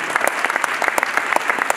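Audience clapping at a civic New Year's greetings ceremony in Strasbourg, a brief burst of dense, steady applause at moderate distance with no voices.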